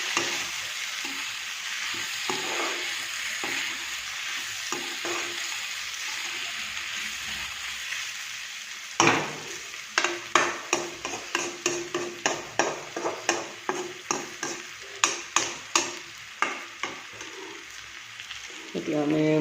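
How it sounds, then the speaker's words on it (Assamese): Pork with turmeric powder frying in a pan, a continuous sizzle that later turns into a regular series of scraping stirs, roughly one per second, close and clear. "এতিয়া ধুনীয়াকৈ অকণমান ভাজি লওঁ।"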